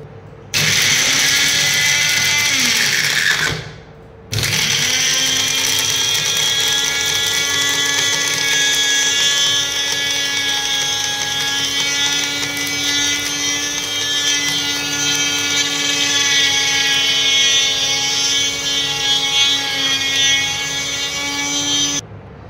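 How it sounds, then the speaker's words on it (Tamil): A kitchen mixer grinder whirs loudly and steadily while powdering hair dye ingredients, with one brief pause before the motor spins back up and hums on until it cuts off at the end. "மிக்சியில் போட்டு இப்போ பிளெண்ட் பண்ண போகிறோம்"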